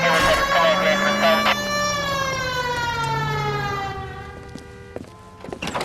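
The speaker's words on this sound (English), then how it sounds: "Hit the siren." An LAPD police car siren in L.A. Noire wails loud and close, a rising and falling electronic tone that slowly fades to quieter, with a voice speaking faintly beneath it.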